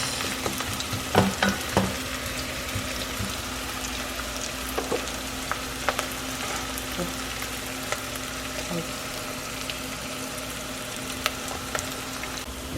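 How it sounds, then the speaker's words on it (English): Onions brown in hot oil in a pan, a soft, continuous frying crackle with scattered sharper pops and occasional stirring knocks, fairly quiet and close, with a low steady hum underneath. "The oil is hot as we want it now, so we're just going to brown the onions for a while"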